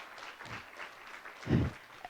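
Audience applause at the opening session of a conference, honoring a regional team: a fairly quiet, steady wash of clapping with a brief denser swell partway through.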